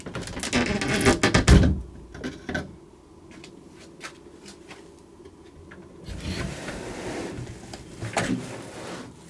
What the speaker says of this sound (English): all what I need to do is to pull the door out